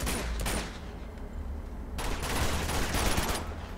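Video game gunfire from Uncharted 2: Among Thieves, rapid automatic bursts rattling loud and dense, with a short lull in the middle before the shooting resumes.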